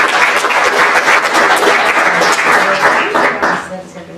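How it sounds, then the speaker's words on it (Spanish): A university lecture audience applauds a guest speaker at a conference on the Jesuit missions, dense clapping filling the room with a voice partly overlapping and the applause easing at the end. "pido para ella un fuerte aplauso"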